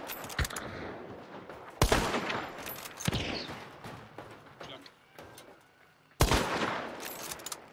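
Gunfire in Hunt: Showdown's Louisiana bayou: sharp shots crack in bursts and single reports at irregular intervals, some loud and close, others softer, with quieter background sounds between.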